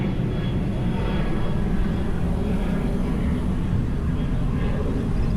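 An airplane climbs after takeoff near Sydney airport, a steady broad engine roar heard from a distance outdoors, with a faint voice briefly under it.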